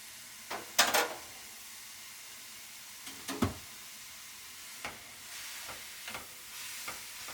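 Salted radish namul stir-frying in perilla oil, a faint background sizzle broken by several sharp clacks and scrapes of a utensil against the pan, spaced unevenly.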